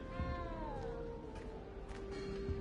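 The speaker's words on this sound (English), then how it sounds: "You don't need to be frightened, little cat." A cat in the video game Hogwarts Legacy gives a drawn-out, wavering meow that slides downward, close and clear over a low steady game backdrop.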